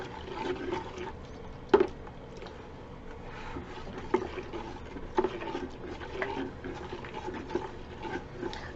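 Salt being stirred into a dishwashing liquid mixture in 12 liters of water, giving a steady sloshing swirl with a few louder knocks and splashes, close and moderately quiet, with no one talking.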